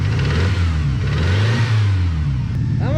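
A 1988 Ford Thunderbird Turbo Coupe that sat abandoned for 20 years revs loudly up close, its engine note swelling and then easing back toward idle.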